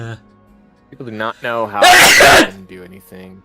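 One loud, sharp sneeze bursts out in the middle of a man's speech, close to the microphone, with talking before and after it.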